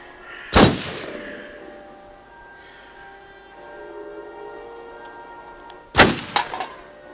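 Two sharp, loud gunshots ring out about five seconds apart at a shooting range at the foot of a ski lodge in the video game Until Dawn, each decaying into a quiet background.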